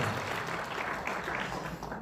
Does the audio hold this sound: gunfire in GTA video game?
no